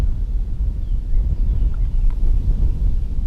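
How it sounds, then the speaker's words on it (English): Outdoors while fishing, wind buffets the microphone in a constant low, rough rumble, loud and close throughout, with no talking. "That wind feels awesome out here."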